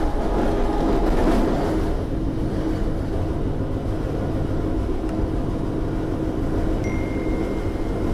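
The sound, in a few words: KA Malabar passenger train running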